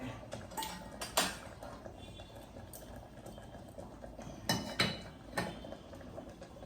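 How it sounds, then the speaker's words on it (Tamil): Ragi mudde is mixed in a pot, giving sparse soft thuds and scraping knocks of a stick or spoon against the vessel, close but faint, in irregular bursts with quiet pauses between, no talking. "இப்போ நான் வந்து எப்படி கலக்கிறதுன்னு காமிக்கிறேன்"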